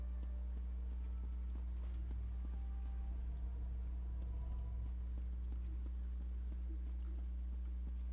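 Horse hooves clop in a steady walking rhythm across Elder Scrolls Online terrain, a soft, continuous patter over a low game drone with no one talking.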